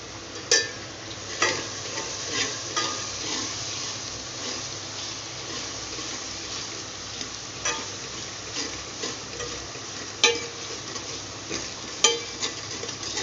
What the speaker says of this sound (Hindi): ज़्यादा नहीं पकाना, बल्कि थोड़ा सा इसको फ्राई करना है।